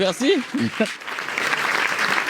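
Brief burst of audience clapping at a cannabis-themed talk, starting just after a short spoken phrase and continuing as a scattered patter of hands.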